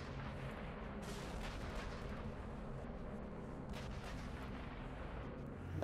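Heavy anti-aircraft guns on a flak tower in the video game Sniper Elite V2 boom continuously in a dense, rumbling barrage with sharper blasts around one and four seconds.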